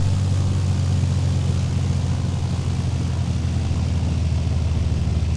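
The propeller engine of a light aircraft idles in X-Plane 10, a steady low droning hum with a constant throb. It holds loud and close throughout, with no talk.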